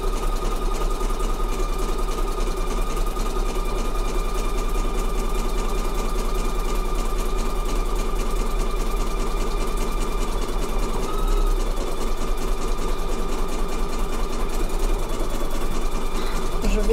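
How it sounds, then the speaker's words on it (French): Embroidery sewing machine stitching with stiff thread, passing repeatedly over the same spot, a steady continuous mechanical hum and rapid needle chatter that holds at an even level throughout. "la machine va passer plusieurs fois au même endroit et que le fil étant dur, vous risquez d'avoir un petit peu plus de bruit que d'habitude"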